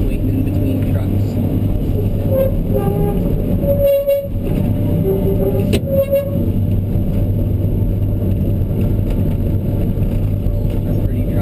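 A Kobelco SK210 excavator loading trucks on a dry site, its diesel engine droning loud and close with a steady low rumble, a couple of brief revving surges partway through.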